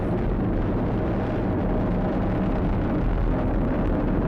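Stage 1 engines of a SpaceX rocket launching a Dragon capsule, heard as a dense, loud, continuous roaring rumble with no break or voice over it.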